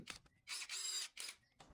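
A screwdriver bit drives a steel wall anchor tight in a lightweight wall, making several short bursts of whirring, ratcheting mechanical noise separated by brief pauses, faint and close.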